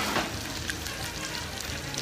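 Sausage and beans sizzling in a pan for a New Orleans chicken and biscuits dish, a steady low crackle of frying fat carrying on evenly with no talk over it.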